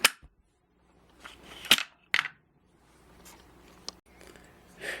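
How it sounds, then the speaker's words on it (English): SKS rifle fed from a ProMag 30-round magazine, its action cycling rounds: a few sharp metallic clacks and snaps with quieter mechanical rattles between, close and alone without speech. "you load it up, and it cycles like a dream. You should be able to strip rounds off the mag."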